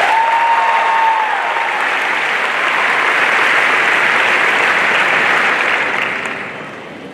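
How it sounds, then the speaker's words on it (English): A large audience at a high school graduation ceremony applauds in a loud, dense, continuous wash of clapping that holds steady for several seconds before fading out. "One more round of applause for this very great."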